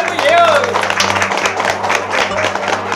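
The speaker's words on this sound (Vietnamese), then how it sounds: "cho một tràng pháo tay thật lớn quý vị ơi" Guests at a Vietnamese engagement ceremony applaud the bride and groom with a steady, close round of clapping, a low hum running underneath and a brief voice at the start.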